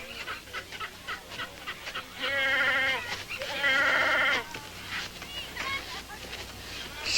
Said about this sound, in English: that's a mighty fine Wallace goat you have here